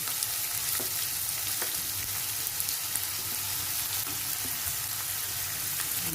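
Onion frying with garlic in a pan for a dry stuffed-calamari dish, a steady close sizzle with soft crackles and occasional stirring clicks, no voices.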